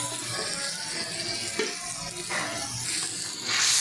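Chicken coated with ground red chili, coriander and cumin stirred in a frying pan, giving a steady close sizzle with scraping stirs and a louder burst of frying near the end.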